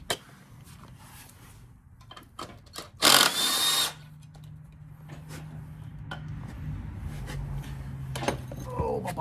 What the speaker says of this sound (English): Let's get this bolt unbolted.